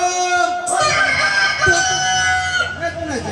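Rooster crowing during a Maithili nach comedy stage programme in Bihar, a loud drawn-out cock-a-doodle-doo call with harmonic, wavering tones, followed by further crowing phrases over about three seconds.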